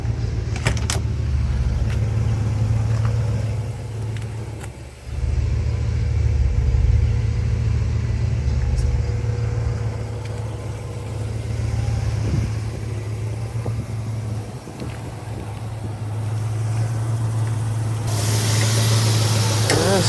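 A restored 1963 Chevrolet Nova SS with a 327 V8, Edelbrock high-rise manifold and automatic transmission idles with a steady low rumble. Someone talks over it throughout.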